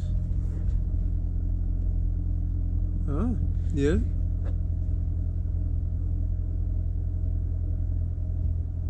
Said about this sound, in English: Now let's start the car and see what happens.